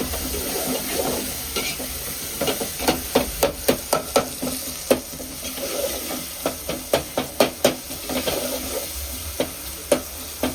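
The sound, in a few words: sautéing onion and tomato masala for fish curry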